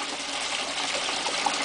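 Water rushing steadily through the spray bar of a recirculating sluice box, a continuous close, even hiss and splash with no pauses or voices.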